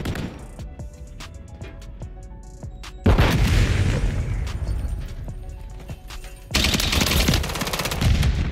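Rapid bursts of automatic gunfire and booming shots from the Call of Duty x Gundam video game, quieter scattered shots at first, then two loud sustained volleys near the end.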